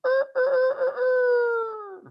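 A person imitates a rooster crowing with a loud, close, multi-part cock-a-doodle-doo call that rises and then trails off, heard alone.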